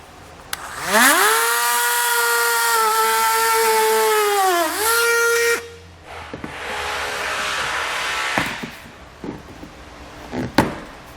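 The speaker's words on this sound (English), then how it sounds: "I'm just going to use a Dremel tool." A Dremel rotary tool cuts through thin plastic while a Curt trailer hitch receiver is being fitted to a 2020 Ford Explorer. A high whine spins up and holds for several seconds, dips and recovers, then stops. Fainter scraping and handling knocks follow.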